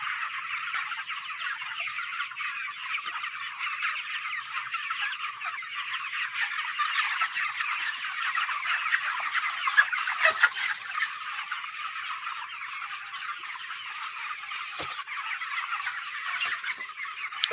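A shed full of 32-day-old broiler chickens on a farm, clucking and chirping constantly in a dense, overlapping chorus at moderate distance, with no talk.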